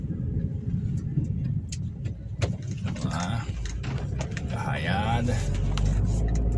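Traffic in Lagoa da Prata: a car passes at night under a steady road rumble, with people talking over the engine noise through most of the pass.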